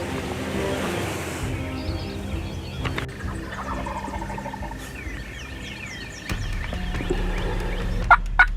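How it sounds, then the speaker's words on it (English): A wild turkey gobbles from a distance in open country, several faint rippling calls over outdoor ambience, with a louder nearby sound near the end. "we've got 3 or 4 turkeys within 200 yards of here"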